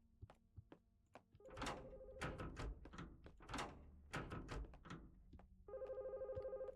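A video game telephone rings in repeated electronic bursts between thuds and clunks of in-game movement, the ringing growing steady and sustained near the end.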